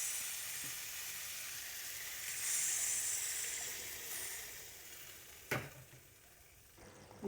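A spice curry for a Bengali fish dish hisses and sizzles in the pan as water goes in, a steady moderate crackle that fades somewhat toward the end, with a sharp knock partway through.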